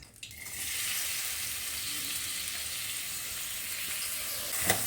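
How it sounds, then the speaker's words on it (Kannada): Capsicum sizzles steadily in hot ghee in a home kitchen pan, a loud continuous hiss after an initial drop-in, with a brief stir clatter near the end. "ಕ್ಯಾಪ್ಸಿಕಮ್ನ ಸ್ವಲ್ಪ ಫ್ರೈ ಮಾಡ್ಕೋಬೇಕು"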